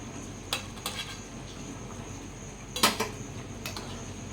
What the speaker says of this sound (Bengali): একটু নাড়াচাড়া করে দেবো